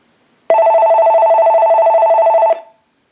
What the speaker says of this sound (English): So what we want to do is go ahead and start our ring cycle.